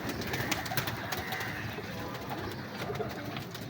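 Teddy pigeons cooing in soft, repeated throaty calls close by, layered over a busy hum of loft noise and light rustling throughout.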